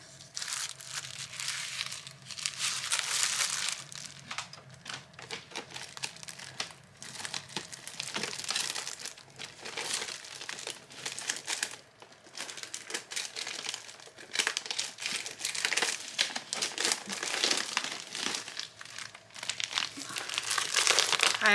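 Sheets of assorted paper, including vellum and tracing paper, are shuffled and crinkled while someone leafs through a folder, a dense, continuous close-up rustling with brief pauses and no talking.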